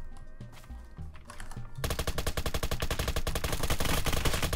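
Roblox Apocalypse Rising 2 firefight: a short lull with faint shots gives way to loud, sustained rapid-fire automatic gunfire that rattles on without pause to the end.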